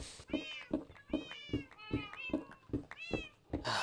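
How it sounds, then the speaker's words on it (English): Several domestic cats meow loudly and insistently, about eight sharp, rising calls in a steady rhythm, close by, with a brief burst of noise at the very end. "listen to my cats be insanely loud and annoying"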